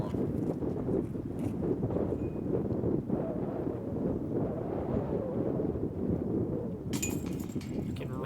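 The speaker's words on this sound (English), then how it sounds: "the wind is coming in really strong for these last couple holes" Strong wind buffets across an outdoor disc golf course, a continuous loud low roar of gusts hitting the microphone with a few faint clinks and a brief sharp noise near the end.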